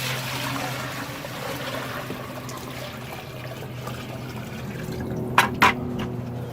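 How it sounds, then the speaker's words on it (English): Several gallons of water poured into the top bucket of a homemade 4-gallon gravity water filter, a steady continuous splashing trickle close by, ending with a couple of brief louder sloshes. "Go ahead and pour that in."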